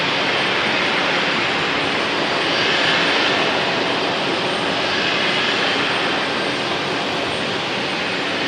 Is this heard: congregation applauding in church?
no